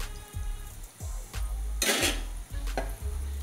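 Sweet potato gulab jamun fry in hot oil in a pan with a steady sizzle, while a spoon scrapes and clinks against the metal several times and a louder burst of bubbling hisses midway.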